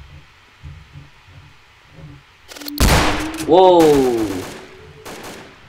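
Gunfire in Garry's Mod DarkRP erupts as a burst of rapid shots after a quiet, thumping stretch, with a person shouting over it and a ringing tone trailing off.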